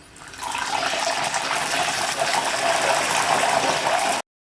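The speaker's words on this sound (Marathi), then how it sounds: "मिठाचं पाणी फक्त दोन ते तीन थेंब आपल्याला यामध्ये घालायचं आहे" Drops of salt water hit potato wafers frying in oil and set off a sudden loud hiss that surges and holds steady for a few seconds before cutting off abruptly.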